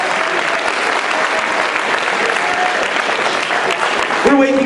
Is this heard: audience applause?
yes